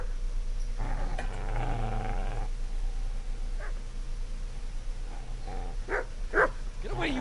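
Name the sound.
dog growling and barking in video game Kingdom Come: Deliverance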